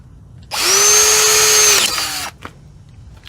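A power drill whines loudly for about two seconds, spinning at a steady pitch before slowing and cutting out, followed by a brief knock, while drilling a stripped brake caliper bolt hole on a Jeep Wrangler.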